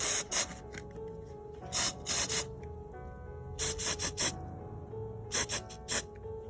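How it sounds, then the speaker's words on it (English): Several short bursts of hissing spray from an aerosol can of rust neutralizer, coming in quick clusters of two or three with brief pauses between. "we're gonna take our rust neutralizer. It's gonna spray."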